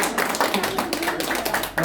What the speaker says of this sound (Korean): 우리 다 같이 박수 한번